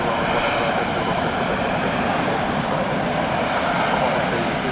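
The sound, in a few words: Frankfurt-bound jet airliner engines before takeoff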